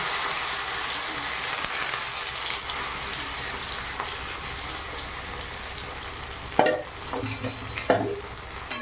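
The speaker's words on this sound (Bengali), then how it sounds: "তেল গরম হয়ে গেছে এবারে মেখে রাখা আলু এর মধ্যে দিয়ে দিলাম" Mashed potato dropped into hot oil in a pan for potato paratha filling: a soft steady sizzle, then sharper scraping and stirring knocks near the end, close and fairly quiet, no talking.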